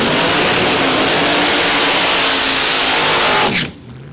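A supercharged drag racing car roars at full revs at Warwick Dragway in Australia during a nitro drag racing meet. The sound is loud, close and sustained for over three seconds, then cuts away sharply to a faint background.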